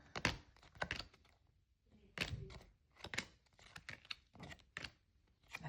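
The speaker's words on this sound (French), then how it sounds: "je suis en train de poser toutes mes cartes un peu n'importe comment" Oracle cards from a large oracle deck being set down one after another on a table in a loose, uneven rhythm, soft flat taps and slides close by, with quiet gaps between small clusters.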